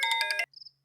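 Electronic phone ringtone in a Hindi-dubbed 2021 film: a loud, steady repeating tone pattern for about half a second, then a fainter high trilling chirp, with no talk.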